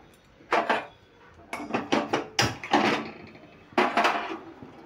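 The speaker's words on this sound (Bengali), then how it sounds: "তার জন্য আমি কড়াই বসিয়ে দিলাম।" A metal wok (karai) is set down on a home kitchen stove, giving a series of sharp clanks and scraping knocks in quick irregular bursts, fairly close and loud, with no talking.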